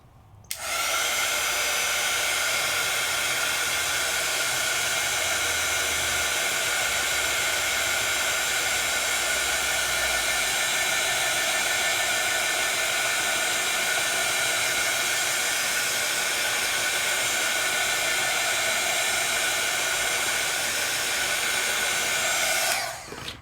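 A dryer blows steadily to dry ink on a stamping stencil that doubles as a die, a loud, continuous close-up whooshing hiss that starts abruptly, holds unchanged for over twenty seconds and then cuts off, with no voices.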